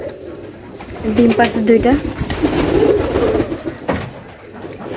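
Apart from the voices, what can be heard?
Serazi pigeons cooing in their loft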